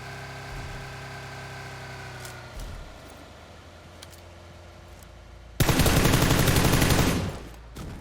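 Automatic gunfire in PUBG Lite, a loud sustained burst of rapid shots lasting about a second and a half, preceded by quieter engine-like game background.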